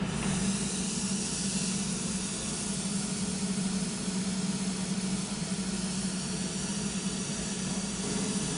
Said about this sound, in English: In a minute, you'll hear the mist start coming through the system.